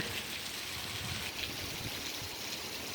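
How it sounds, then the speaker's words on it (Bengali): Heavy rain pours down in a dense, steady hiss and patter that holds at one level throughout, with no voices heard. "প্রচুর বৃষ্টি হচ্ছে খালি পানি পড়তেছে"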